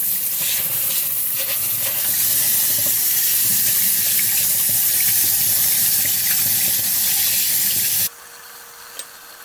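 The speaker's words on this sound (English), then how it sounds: "I'm gonna just wash them off with some cold water." Cold tap water runs steadily at full flow over pork neck bones, splashing into a sink for about eight seconds before it is turned off, leaving quiet.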